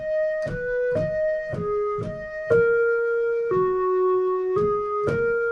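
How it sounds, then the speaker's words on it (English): Synth lead playing a counter melody in an electronic music production: a sequence of clear plucked-attack notes stepping up and down in a steady rhythm over soft percussive hits, played alone without voices. "another synth lead, but just this one is a counter melody of it"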